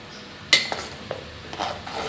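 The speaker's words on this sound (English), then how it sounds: "After that we are going to add all these dry fruits." Dry fruits drop into a chocolate mixture in a pan with a sharp clink at first, followed by a few lighter scattered taps and soft rustles, close and fairly quiet.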